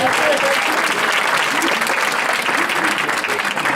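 Loud, dense clapping from an audience at a Democratic Alliance presidential event after a speech, a brief steady burst of applause with faint voices underneath.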